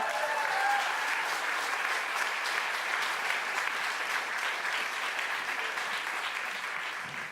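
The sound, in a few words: audience applause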